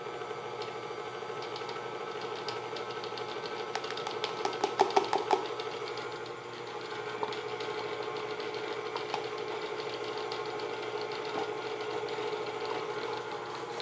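Electric mixer running on low while mixing matcha white chocolate cookie dough, a steady mid-pitched motor hum with a brief burst of rattling clatter partway through.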